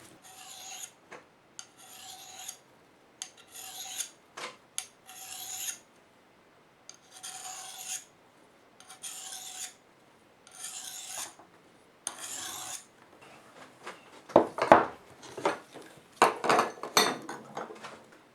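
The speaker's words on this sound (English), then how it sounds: "Once you get the blade as sharp as you can get with the sharpening stone" A knife blade being sharpened on a sharpening stone outdoors, with repeated close rasping strokes in a steady rhythm, then quicker, louder scraping and metallic handling near the end, no talking.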